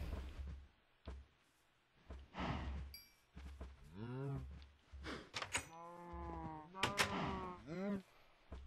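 Sheep bleat repeatedly in Minecraft, several wavering calls in a row mixed with other farm animal noises and footsteps, fairly close.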